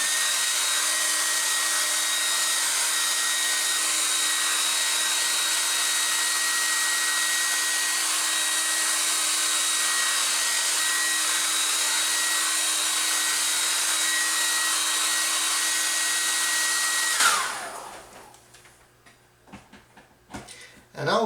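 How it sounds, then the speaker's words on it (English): A hair dryer blows steadily and loudly on a watercolor landscape painting for about seventeen seconds, a constant broadband whoosh with a faint hum, then cuts off abruptly, leaving quiet room sound and a few small handling noises. "I'm gonna use the hair dryer for that because we have a time limitation."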